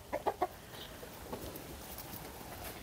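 A few short rooster clucks close by in quick succession at the start, then quieter farmyard background noise.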